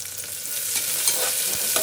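Onions frying in a pan until browned, making a steady dense sizzle with faint stirring scrapes and a couple of soft clicks throughout.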